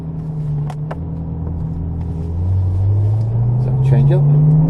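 A supercar accelerates onto the Rockingham track, its engine note climbing steadily in pitch and loudness over a few seconds, close and dominant throughout.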